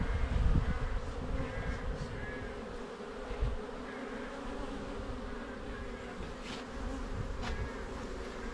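A steady, dense buzzing of many honeybees close by at an open hive during inspection, droning continuously throughout with a few brief louder thumps and no voices.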